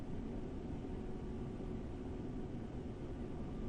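An aircraft in the X-Plane 11 flight simulator game powers up for a test takeoff, producing a continuous, steady engine roar and rushing drone that holds level throughout with no talk.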